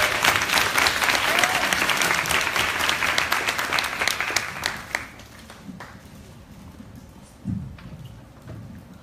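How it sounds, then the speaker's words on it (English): An audience at a youth leadership summit applauds a keynote speaker, loud sustained clapping that thins out after about five seconds into scattered claps and quiet room noise. "Can we give Ms. Sandylu Guerrero another round of applause, please"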